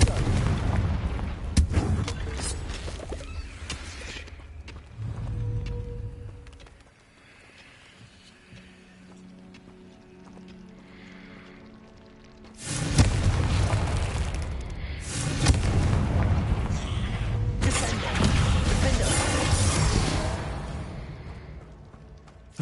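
Confringo fire spell blasts in the Hogwarts Legacy video game, heavy booming explosions in bursts with a quieter stretch between them and loud rumbling after.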